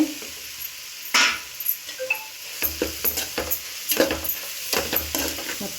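Egg and vegetables are stir-fried together for egg fried rice: a steady close sizzle under repeated scraping and tossing strokes of a spatula in the pan, with a few louder clanks and no talking.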